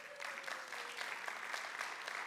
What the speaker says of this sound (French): Est-ce que vous voulez bien l'applaudir?